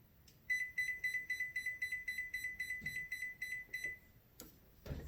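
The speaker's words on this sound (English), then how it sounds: "I'm going to set a timer here for 45 minutes on the actual clock." An oven clock timer is set, giving a rapid run of about fifteen evenly spaced high electronic beeps as its button is pressed, followed by a couple of soft knocks nearby.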